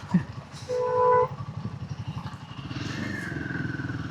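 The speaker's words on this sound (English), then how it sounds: "This is a really peppy engine. It doesn't feel like a Royal Enfield at all. It likes to be revved." A Royal Enfield Himalayan 450 motorcycle engine thrums with a low, even pulse and then rises in pitch as it is revved, with a brief electronic beep early on.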